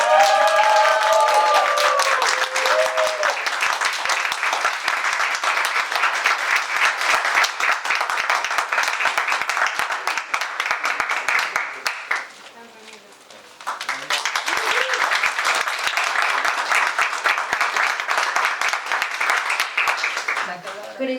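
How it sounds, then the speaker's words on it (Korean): An audience applauds at an award ceremony for a tooling program completion, a loud, dense crowd clapping that briefly fades and dips before swelling again and continuing to the end. "큰 박수 부탁드립니다."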